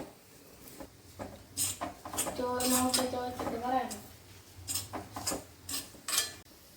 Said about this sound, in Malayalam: വീണ്ടും ഈ തേങ്ങ ഒന്ന് വറന്ന് വരണം കേട്ടോ